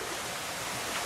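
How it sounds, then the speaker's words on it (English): Bemis Brook, a rocky stream, flows with a steady, faint broadband rush of water and no other sounds. "We're in Bemis Brook."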